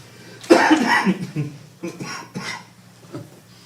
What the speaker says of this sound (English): You take over, I'm coughing.